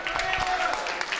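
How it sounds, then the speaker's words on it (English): Crowd applause for the champions of a provincial Rocket League esports tournament, brief and steady, with voices mixed into the clapping. "One more big round of applause"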